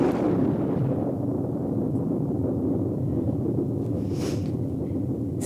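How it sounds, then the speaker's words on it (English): Deep continuous rumble of thunder rolls on steadily, loud and broad-band throughout, with no other sounds standing out. "It's thunder."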